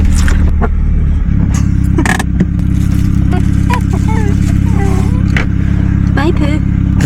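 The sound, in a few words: car driving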